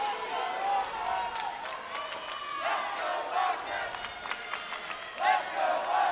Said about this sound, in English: Lexington fans getting loud, trying to cheer on Andy Szalwinski.